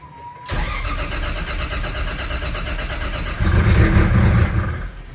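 A car engine just fitted with a replacement turbo cranks loudly and steadily without catching, the starter's churning growl growing heavier partway through and never settling into a running idle.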